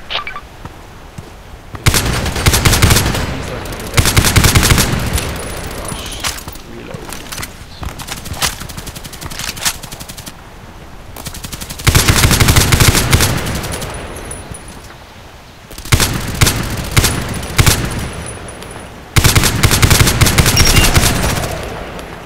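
A Colt IAR machine gun fires in the online shooter Contract Wars, loud rapid automatic bursts in several long strings separated by quieter gaps, with a voice talking at times.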